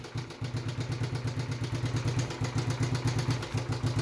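A Suzuki motorcycle engine idles steadily up close, a fast even mechanical pulse with slight clatter, running alone without any voices.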